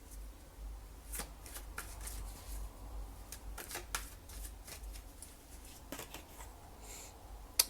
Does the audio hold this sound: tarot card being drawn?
yes